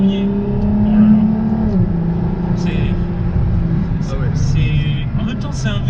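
A Ferrari LaFerrari hypercar drives slowly in January with a light foot on the throttle, its engine giving a low steady drone and mild revs beneath someone talking throughout.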